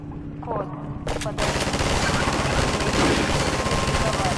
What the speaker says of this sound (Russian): Там есть пулемет, кстати.